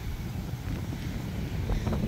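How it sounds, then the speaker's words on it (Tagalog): Wind gusting across an outdoor playground, a continuous low rumble of air buffeting the microphone, steady and fairly loud with no clear talk. "Medyo windy lang na malamig ba?"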